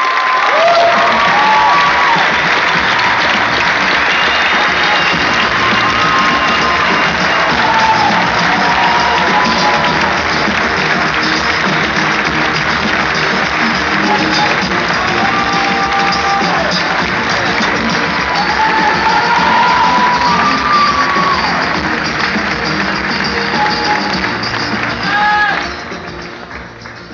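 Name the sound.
audience applauding the young Gen Y panel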